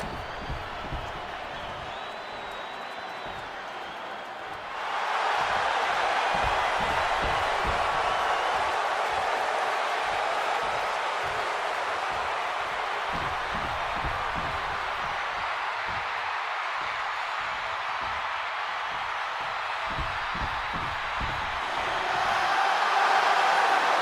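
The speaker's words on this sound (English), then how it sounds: "this capacity crowd just exploded" Loud arena crowd roar from a capacity audience in the WWE 2K26 video game, swelling suddenly after a quieter opening and sustaining as a broad wash of cheering with scattered thumps and whoops before rising again at the end.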